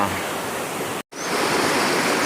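A rushing mountain river at a hiking crossing near Mount Syvulia in the Carpathians, a loud steady roar of water filling the scene, briefly cut out by a short gap.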